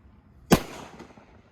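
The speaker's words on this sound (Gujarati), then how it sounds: "હવે ફટાકડા ફોડીએ થોડીક વાર. દાદા મિર્ચી બોમ્બ કઈ રીતે ફોડવાના હું તમને દેખાડું." A mirchi bomb firecracker goes off outdoors on New Year, one sharp loud bang followed by a brief fading rumble and quiet.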